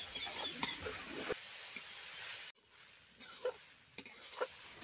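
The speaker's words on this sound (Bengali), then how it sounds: "খুব ভালো করে এভাবে তেলের উপর কিন্তু এভাবে রান্না করতে হবে, মানে কষিয়ে নিতে হবে।" Grated beetroot and carrot sauté in oil for vegetable chops, a quiet sizzle broken by stirring scrapes, with a sudden drop to near-silence midway before soft frying and spatula taps resume.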